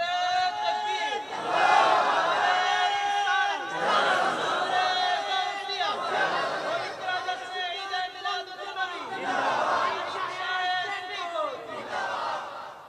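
A large religious gathering at a Bangladeshi waz sermon shouts in unison in response to a takbir call, with repeated loud surges of massed voices, each swelling and fading in rhythmic waves, the chanting crowd close and dense.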